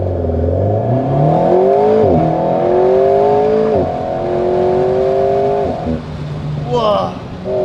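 An Alpine A110S with an aero kit and 300 hp sprints from 0 to 100 km/h, its loud, close engine note rising in sweeps that break at each quick gear change, then easing off.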